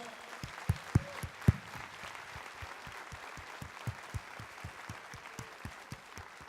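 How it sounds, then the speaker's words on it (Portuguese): Scattered, fairly steady claps from a church congregation during a Portuguese-language sermon on God's provision. The claps are faint and distant, with a few sharper ones standing out, and a voice is briefly audible. "aplauda o Senhor"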